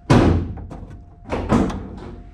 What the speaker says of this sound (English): Besides Gary slamming his door over there.